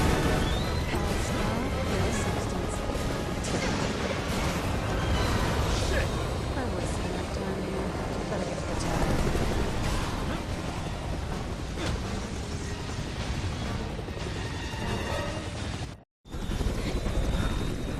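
Helicopter crashing in Resident Evil 6: a dense, loud game soundtrack of rotor roar, crunching impacts and explosive rumble runs steadily, with a sudden brief cutout near the end before the noise resumes.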